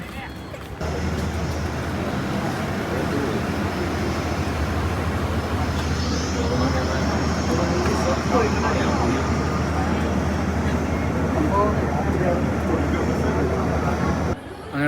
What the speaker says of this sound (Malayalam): നമ്മൾ ഗോവയിൽ ലാൻഡ് ചെയ്തു സുഹൃത്തുക്കളെ ഫ്ലൈ നയൻറ്റി വൺ ആണ് നമ്മുടെ ഫ്ലൈറ്റ്